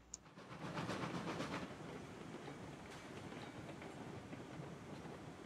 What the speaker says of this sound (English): And the train don't want to stop.